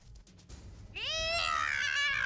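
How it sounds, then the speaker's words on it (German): A house cat lets out a long, loud, rising meow lasting over a second after a few quieter sounds, close to the listener and with no voices over it. "Was ist mit den Katzen jetzt gerade los?"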